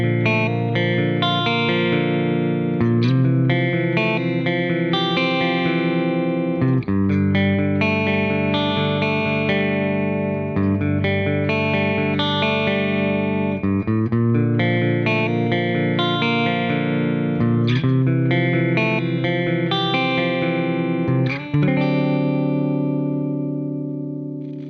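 An electric guitar plays through a stock clean tone preset on a Valeton GP-5 multi-effects unit, with sustained, ringing chords and melodic lines at a steady, loud level, alone with no talking.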